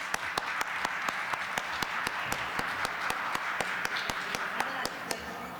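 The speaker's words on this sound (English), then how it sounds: "a big applause, a warm applause to all of our panelists" An audience applauds panelists at an expo session, a continuous wash of clapping with a few sharp, regular claps standing out nearby, steady throughout.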